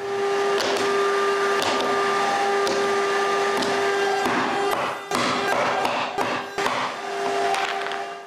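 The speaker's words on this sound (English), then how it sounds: "While the CNC is cutting more rings" CNC router cutting plywood rings in a workshop, a steady loud whine with sustained tones, broken by repeated thumps and clatter as the cut progresses.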